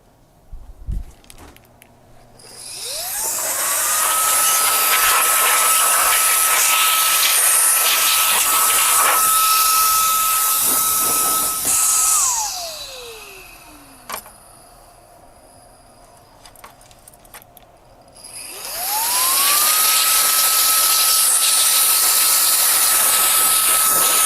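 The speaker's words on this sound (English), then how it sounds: "Where is my electric blower?" An electric blower runs at a repair bench, starting with a rising whine into a loud steady hiss, winding down around mid-clip, then spinning back up to full roar, close and alone.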